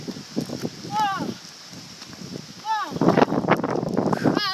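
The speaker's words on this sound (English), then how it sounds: "Wow, that was windy." Strong gusts buffet the microphone outdoors, a rough low rumble swelling and surging, loudest in the second half, with excited voices exclaiming over it and a few high whistling tones.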